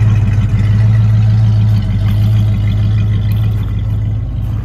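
A 1964 Ford Mustang engine idles with a deep, steady rumble close by, holding an even low drone throughout.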